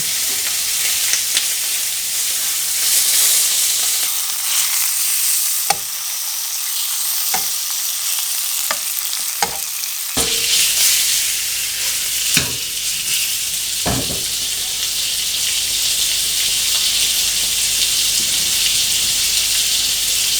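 Lamb ribeye chops sear slowly in hot oil in a pan over low heat, giving a loud, steady sizzle and crackle with a few sharp pops and clatters, and the frying grows brighter and more intense partway through.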